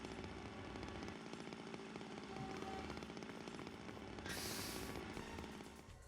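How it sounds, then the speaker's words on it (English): A neighbor's chainsaw cutting wood, heard as a steady, fairly loud buzzing drone that holds for several seconds with a brief hissy burst near the end, no talking. "hearing his neighbor work on wood with a chainsaw right now"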